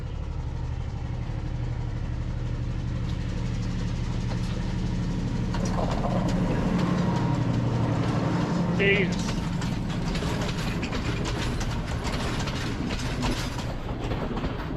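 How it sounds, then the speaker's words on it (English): An old train rumbles past on the tracks in Ella, Sri Lanka, loud and close, with rhythmic clattering and a squeal as it goes by; a person briefly exclaims. "There's definitely a train coming."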